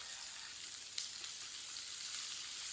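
Spices frying in a pan while being stirred with a spoon, a steady soft sizzle with one small click, fairly quiet and without any talking.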